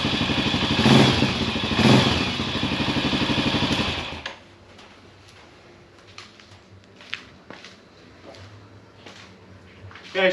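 A Motorstar Cafe400 motorcycle with its stock exhaust runs close by, a loud throbbing idle for about four seconds before it cuts out, followed by quiet clatter and handling noises.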